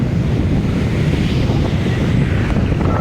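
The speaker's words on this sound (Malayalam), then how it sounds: "നല്ല കാറ്റടിക്കുന്നുണ്ട്" Strong wind gusting hard against the microphone outdoors near water, a loud, continuous roaring buffet that never lets up.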